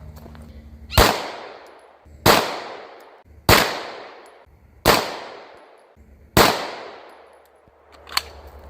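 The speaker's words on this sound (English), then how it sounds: "this time we're going to try MagTech, just 115 grain ball. Shoot a group, see what we get" Five sharp pistol shots from MagTech 115 grain ball ammunition fired through a Bul Armory Tac Pro at 25 yards, spaced about a second and a half apart, each loud crack ringing out and decaying, followed by a fainter metallic click.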